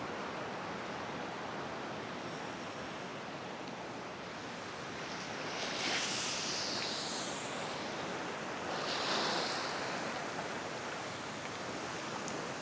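Ocean surf rolling onto a beach along an Indonesian coastline, a steady broad wash with two swelling breakers crashing around the middle, heard alone with no talk.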